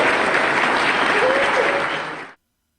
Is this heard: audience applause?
yes